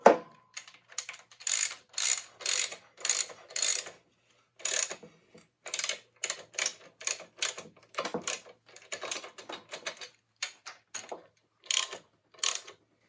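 A ratchet wrench tightens a bolt on a Lycoming O-360 aircraft engine during a DIY overhaul, giving close, crisp bursts of rapid clicking in short repeated strokes with brief pauses between them.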